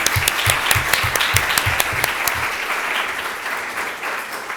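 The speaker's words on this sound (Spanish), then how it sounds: "Un aplauso." Audience applause fills a talk on gene editing and a book presentation, a dense steady clapping from a crowd that holds at a fairly loud level throughout, with a few sharper claps standing out near the start.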